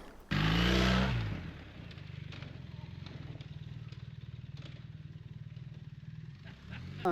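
A 2024 BMW R 1300 GS Adventure motorcycle revs loudly, then settles into a steady, low, pulsing engine thrum at close range with faint clunks as it rolls over wooden sleepers.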